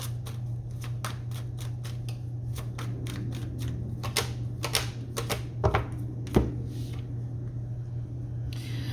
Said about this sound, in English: Let me get these cards together